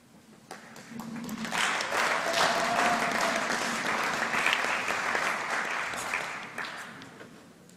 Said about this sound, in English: I'm happy you are applauding yourself.